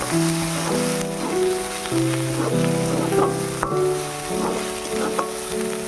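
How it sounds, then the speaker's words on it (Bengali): Spices with ground black pepper sautéing in hot oil in a pan for a pointed gourd curry, a steady close sizzle with faint stirring scrapes and no talk. "এবার এই মশলাটা দিয়ে আগে একটু কষিয়ে নেবো"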